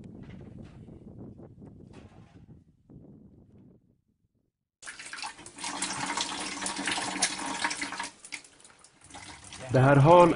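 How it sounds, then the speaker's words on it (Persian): Water pours steadily down a steep slope through a hose, a loud continuous rush starting a few seconds in after quieter talk-like sounds, with a brief louder burst near the end. "شیب تند مسیر باعث شده است شلنگ آب را به خوبی به پایین سرازیر"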